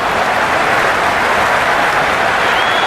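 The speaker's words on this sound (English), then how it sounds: "There's a buzz, a real buzz coming from the stands." Cricket stadium crowd in the video game Cricket 26, a loud, continuous wash of clapping and cheering from the stands that holds steady throughout, with no voices standing out.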